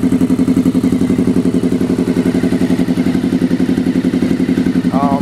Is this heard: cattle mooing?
no